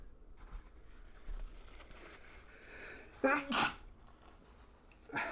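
One sharp, loud sneeze bursts out in two quick parts amid quiet background noise during a live baseball play-by-play broadcast, with a faint soft sound afterward.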